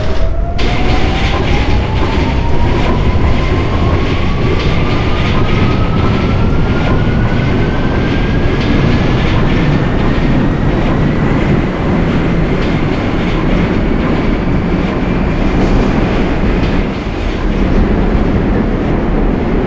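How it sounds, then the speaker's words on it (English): Simulated NYC subway F Express train bound for Jamaica–179th Street in the OpenBVE game: a loud, steady rolling roar with rail clatter and a rising motor whine as it accelerates, continuous for the whole stretch. "This is the 179th Street Jamaica bound F Express train."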